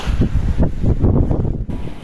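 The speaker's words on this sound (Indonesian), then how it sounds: "Lagi dan lagi, angin mengiringi perjalanan kita." Strong wind buffets the microphone on a mountain trail through an edelweiss meadow, a steady roaring gust that swells and dips with no voices over it.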